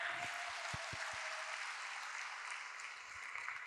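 An audience at a talk applauds, a faint, distant wash of many hands clapping together that continues steadily and tapers slightly toward the end.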